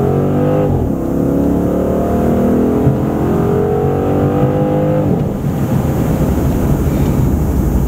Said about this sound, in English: standard launch in the SRT8